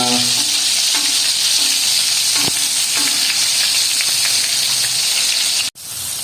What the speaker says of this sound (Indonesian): Harus kita siramkan minyaknya biar rata matangnya.